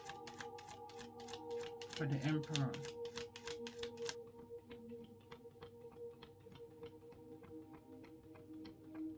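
Tarot cards are shuffled in quick, rhythmic ticking riffles, quiet and close, while a voice speaks briefly over the shuffling.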